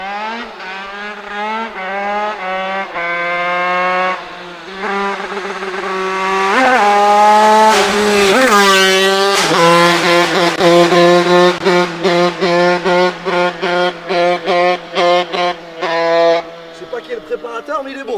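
A Derbi motorcycle engine revs hard through rising and falling pitches, then stutters in rapid bursts, loud and close, running rich at high revs during a wheelie contest.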